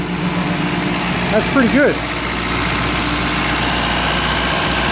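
A 1952 MG's engine, seized for 34 years, idles steadily just after starting, a continuous low rumble that runs beneath a voice speaking briefly.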